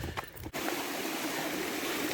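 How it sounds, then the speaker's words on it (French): A small river flows behind a campsite, a steady close wash of rushing water after a brief moment of faint clicks and handling noise. "Il y a une petite rivière très sympa derrière le camping."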